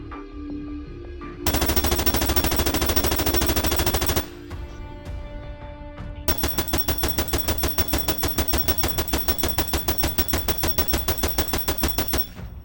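Rapid synthetic machine gun bursts from the video game Angry Bots, one stretch of fast fire, a pause with tones, then a longer run of evenly spaced loud shots.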